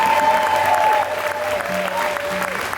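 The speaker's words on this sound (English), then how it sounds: "one more round of applause for our dancers" A crowd claps steadily for a dance performance at a Banboche event, loud and close, with a voice speaking briefly over the applause.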